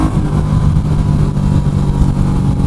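A Royal Enfield Meteor 350 motorcycle cruising on the highway gives a steady, loud engine drone blended with rushing wind noise, continuous and close, with no talking.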